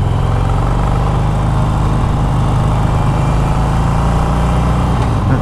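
A Harley-Davidson Roadster 1200 with stock exhaust drones steadily at freeway cruising speed, its low exhaust rumble mixed with faint valve train ticking, loud and continuous throughout.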